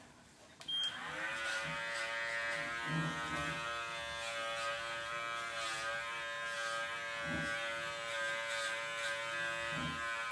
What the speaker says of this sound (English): This is a handy little trimmer.